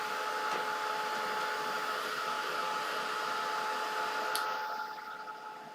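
A handheld dryer blows a steady, whirring stream of air to dry paint on a pumpkin painting, running evenly before dropping off near the end.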